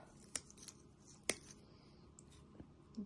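Dried, dead dahlia stalks trimmed with hand cutters: three or four sharp, faint snips spaced irregularly over quiet background, close by, with no talking.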